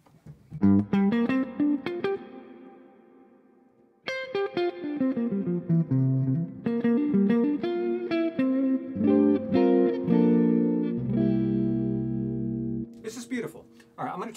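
Electric guitar played through an Orange Crush Pro CR120H amplifier with hall reverb, ringing chords and single notes with long decaying tails, a brief pause near four seconds, then busier phrases ending in a noisy burst.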